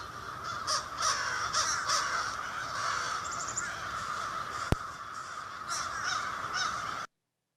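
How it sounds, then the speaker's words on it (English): Several crows, including a fish crow, caw repeatedly in a loose irregular series, fairly close and clear over steady outdoor background noise, with a brief sharp click partway through. "So you could hear the fish crows in there."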